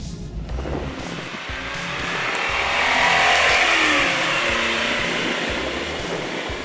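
A 1985 Lamborghini Jalpa being driven around a park, its engine a steady mid-pitched drone with road and wind rush that swells gradually in the middle and holds, no voices over it.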